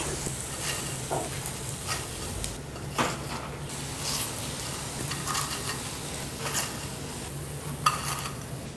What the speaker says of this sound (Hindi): कबाब जब फ्राई हो जाए तो इनको निकाल लेते हैं।